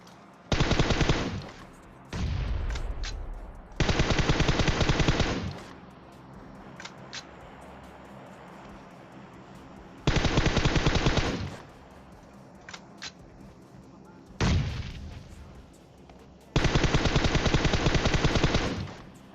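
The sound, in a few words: gunfire in a video game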